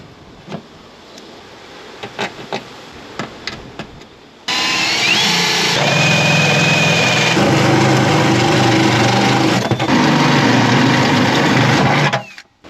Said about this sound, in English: Righto, you've drilled your 2 holes.